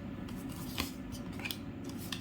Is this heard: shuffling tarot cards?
yes